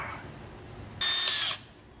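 A power drill with a quarter-inch bit whines loudly for about half a second while drilling during a catch can install on a 2016 Camaro, a short burst after a quiet stretch, close by.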